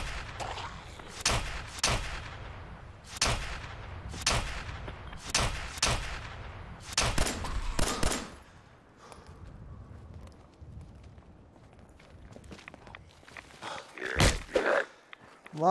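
Gunshots from a video game ring out in a regular series of about a dozen sharp, loud cracks, each with a short decay. Quieter, scattered clicks and thumps follow.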